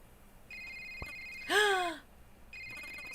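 A cell phone rings in a video game with a steady electronic two-tone ring in two short bursts, clear and close, and a sharp gasping breath in between.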